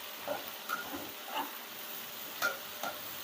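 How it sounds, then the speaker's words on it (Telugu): Onions fry in an open pan for a ladyfinger (okra) dish, giving a steady low sizzle with a few soft stirring clicks throughout. "ఇవి ఇలా ఉల్లిపాయలు బాగా వేగాలి."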